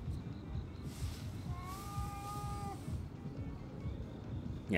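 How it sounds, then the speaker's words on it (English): A cat meows once in the video game Ghostwire: Tokyo, with a drawn-out tonal call in the middle of the clip. It sits over a steady bed of game ambience and is clearly audible, with no one talking. "Hi, kitty cat. How you doing, bud?"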